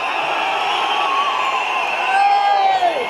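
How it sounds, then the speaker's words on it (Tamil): A large crowd at Thalapathy Vijay's chief minister oath ceremony cheers and shouts continuously, a dense roar of many voices with a few rising whoops standing out. "என்னோட சத்தத்தோட மக்களோட சத்தம் தாங்க அங்க அதிகம்."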